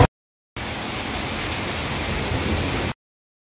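Steady rain falls hard and evenly for a couple of seconds, a dense hiss with no voices, starting and stopping abruptly.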